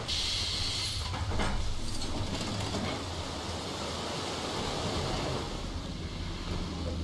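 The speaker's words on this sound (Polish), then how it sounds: "woda się tu wypompowała" Rushing, gushing water as it is pumped out in the LEGO Jurassic World video game, a steady broadband wash that swells briefly near the start and then holds constant with no talk.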